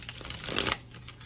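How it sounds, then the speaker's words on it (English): A double tarot deck with doubled major arcana and aces is shuffled in a quick burst of crisp card riffling and flicking, close and fairly soft, with no talk over it. "I feel a wave when I shuffle."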